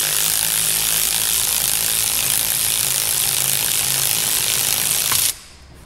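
A power tool driving a ball joint press to seat a Delrin suspension bushing on a Corvette C5/C6, a steady loud whirring buzz running without a break for about five seconds before stopping abruptly, close with no talking.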